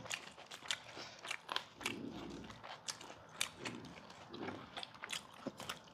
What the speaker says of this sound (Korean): 입에 있는 걸 씹고 있어 천천히